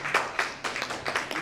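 Audience at a national health planning event claps briefly, a short burst of moderately close, uneven hand claps.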